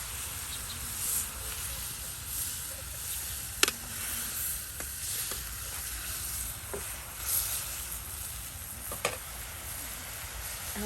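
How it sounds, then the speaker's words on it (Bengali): Fish simmering in oil in a pan in a village kitchen, a soft steady sizzle close by, broken by a few sharp clinks and stirring scrapes. "ভালো করে আপনার তেলের সাথে সিদ্ধ করে নেওয়া হচ্ছে"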